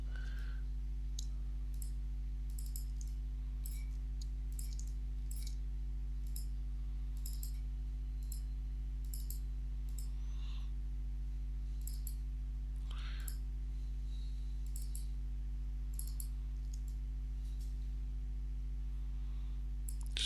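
Computer mouse clicks during UV mapping work, sharp quick double-clicks repeating at irregular intervals over a steady low electrical hum.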